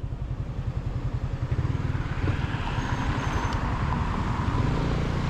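Motorcycle engine droning steadily on an open road, a continuous low rumble that holds near and fairly loud throughout, with faint clatter above it and no one speaking.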